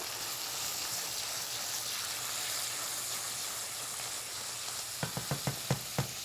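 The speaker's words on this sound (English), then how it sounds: "I'm just going to add in a shot of white wine here. Deglaze a little bit." Softened leeks sizzling steadily in a hot pan as white wine is added to deglaze, a constant hiss ending in a few sharp clinks and scrapes from a utensil near the end.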